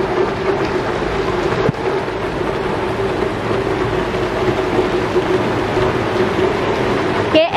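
A heavy rainstorm pours down on a city street, a loud, steady broadband roar of falling water with no letup, heard up close throughout.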